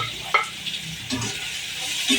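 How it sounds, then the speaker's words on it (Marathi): Onion frying in hot oil gives a close, steady sizzle with a few sharp stirring clatters of a utensil against the pan, and no one speaking. "कांदा थोडा फ्राय करते."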